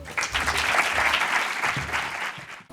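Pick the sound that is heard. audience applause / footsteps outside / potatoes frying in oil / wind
audience applause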